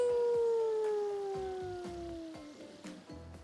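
Howling from a pack of wolves in a video game: a long, loud, sliding howl that slowly falls in pitch, with further howls layering in and softer, choppier calls toward the end.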